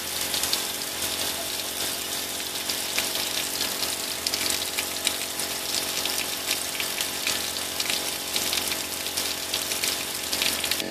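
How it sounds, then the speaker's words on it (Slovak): Water drains out of irrigation taps and hydrants in a steady, hissing rush that stays constant and fairly close, with no voices. "Takže teraz vypustíme vlastne vodu z točiek a z hydrantov."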